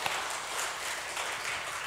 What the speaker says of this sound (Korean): 수고하신 찬양들을 감사의 박수 한번 합니다